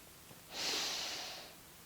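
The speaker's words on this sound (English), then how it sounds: "Take a final deep breath in" One deep breath is drawn in during a guided meditation, a soft, close, airy rush that swells and fades over about a second against a quiet background.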